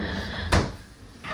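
A pull-out drawer on the French door refrigerator in a 2024 Heartland Big Horn Traveler 32RS RV slides once with a brief, close thump and rattle, then a softer second movement follows near the end.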